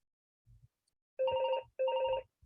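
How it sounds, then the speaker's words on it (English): A telephone rings indoors in two clear, loud bursts of an electronic ring, each about half a second long, with faint low bumps between them and no speech. "Whose that phone ringing?"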